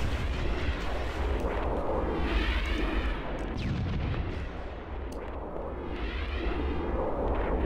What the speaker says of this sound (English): I've got a rocket launcher and I get, excuse me, missile launcher and I can't hit these guys